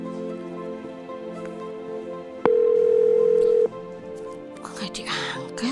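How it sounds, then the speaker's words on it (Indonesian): A telephone rings out on an outgoing call, with a single loud steady tone held for about a second amid quiet background, followed by rustling and faint noise. "Coba telepon deh."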